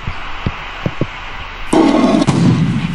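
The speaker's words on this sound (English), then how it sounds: "Whoa, big cannon." Big cannon firing in the I Spy Treasure Hunt video game, a few soft clicks followed by a sudden loud booming blast with a rumbling tail that swells again before fading.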